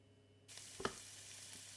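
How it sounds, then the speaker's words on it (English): Steady sizzling of onion frying in oil in a pan begins abruptly and continues as a broad hiss, with a couple of brief clinks from a utensil. "as the pan heats up you'll hear the onion begin to sizzle"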